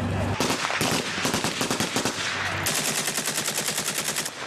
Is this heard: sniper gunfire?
yes